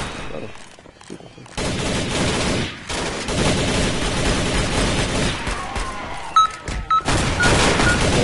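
Assault rifle fire in a Roblox shooter, with sustained rapid bursts of automatic gunshots running almost continuously after a brief quieter start, loud and close.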